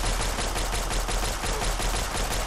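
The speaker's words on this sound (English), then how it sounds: "Laser pistol." Rapid laser pistol fire in Fallout 3, a steady dense burst of energy shots running continuously with no pauses, loud and close.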